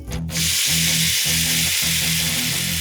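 Instant noodles sizzle and hiss loudly in a hot pan during stir-frying, with rhythmic scraping strokes repeating roughly every half second under the continuous close frying noise.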